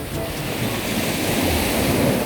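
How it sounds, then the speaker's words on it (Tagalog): Strong ocean surf at Gyeongpo Beach, Gangwon-do, South Korea, crashes and rolls steadily throughout, a loud, continuous wash of breaking waves with some wind rumble and no voices. "Malakas yung alon."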